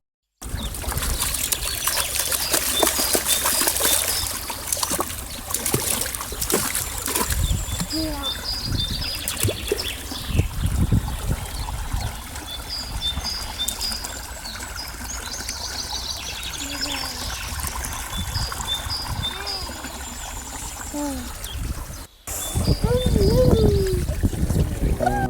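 Cold water trickling and pouring steadily at a scenic lakeside spot, continuous splashing and burbling close by, with voices talking over it and occasional bird calls.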